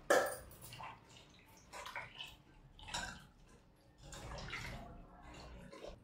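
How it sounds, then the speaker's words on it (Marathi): Freshly churned butter is rinsed in water, with uneven sloshing, splashing and squelching sounds coming in bursts at close range. "स्वच्छ धुवून घ्यायचं 3-4 पाण्यानं।"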